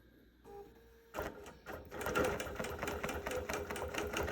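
A Bernina Q24 longarm quilting machine starts with a few short bursts, then runs steadily with rapid mechanical clatter, close by and moderately loud.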